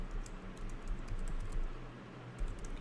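Steady typing on a computer keyboard while entering code, with quick, continuous key clicks and occasional heavier strokes, close and fairly quiet, with no talk.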